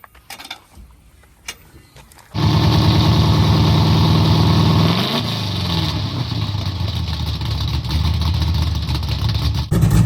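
After a couple of quiet seconds, a Plymouth Barracuda's engine roars to life loud and close, revving up then settling into a steady, rough idle with slight swells in level.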